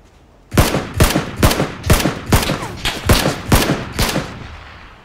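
Video game gunfire: a rapid series of about nine loud, evenly spaced shots ringing out close, each with a sharp crack and short echoing tail, with no talking.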